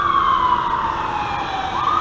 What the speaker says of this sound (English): The siren on as soon as I come outside from the store there.